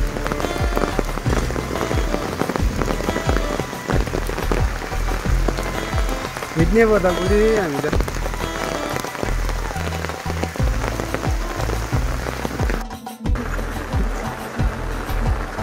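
Steady, loud rain falls throughout on someone walking on foot to a hospital, a dense hiss pattering on surfaces nearby, with a brief spoken voice partway through.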